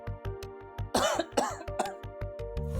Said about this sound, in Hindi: खांसी भी आ रही।